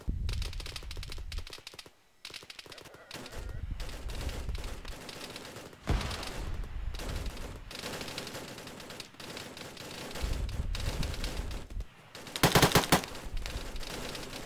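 Bursts of automatic rifle and machine-gun fire crackle in a military simulation video game during a danger-close contact, with rapid rattling volleys, pauses between them, and a sharp loud burst near the end.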